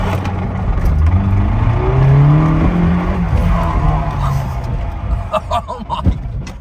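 A Honda Civic EP3 Type R with a K20 engine, its engine damaged by concrete, rumbles and revs on a drive with rising and falling engine tones, loud and close, with some rattling clatter.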